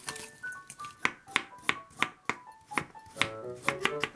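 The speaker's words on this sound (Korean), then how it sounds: "콩나물 볶음에 넣을 당근과 양파를 채 썰어주세요" A knife julienning carrots and onions taps crisply against a cutting board in quick, slightly irregular strokes, close and distinct, with light rustles between cuts.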